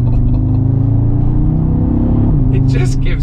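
An Audi RS Q3 Sportback's engine pulls hard under acceleration, a loud steady low drone with a gear-change dip near the end, as someone talks over it.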